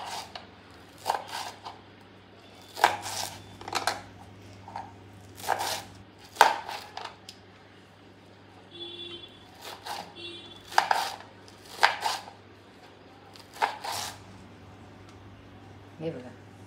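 A knife chops coriander leaves finely on a board for Maharashtrian kothimbir wadi, sharp taps arriving in uneven bursts against a low steady hum.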